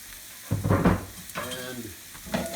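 Garlic and ginger fry with onions in hot oil for a lentil dahl, a loud crackling sizzle that swells in bursts as the pan is stirred, with light scraping of the spoon and no speech.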